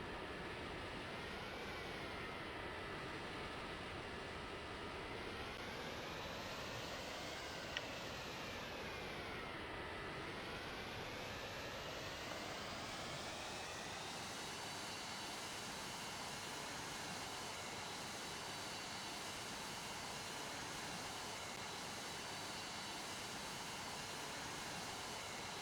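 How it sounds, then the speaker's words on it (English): A Boeing 737 in the video game PTFS roars through its takeoff, a steady loud jet-engine rumble with rising and falling whine tones that sweep through the first ten seconds and then settle into a continuous airborne drone. "we just took off with the Boeing 737"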